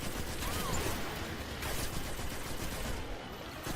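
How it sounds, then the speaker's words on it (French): Automatic rifle fire in the video game Destiny 2, a loud, dense, continuous rattle of rapid shots that fills the whole stretch and eases slightly at the end. "Voilà, c'est un fusil auto."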